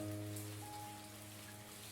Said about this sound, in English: I really like the raining effect